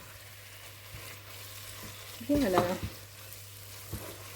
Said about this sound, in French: Et là on va bien mélanger le tout.